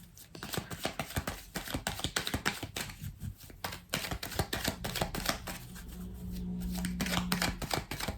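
Tarot cards are shuffled and laid out, making a rapid, close run of crisp flicks and taps that keeps going, with soft shuffling and a low hum near the end.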